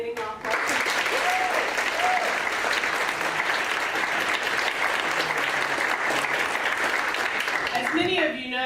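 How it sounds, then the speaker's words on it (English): An audience at a moot court competition breaks into sustained applause, dense clapping filling the room for several seconds before fading, with a voice speaking briefly at the start and end. "let's give a big round of applause to the two remaining nonprofits"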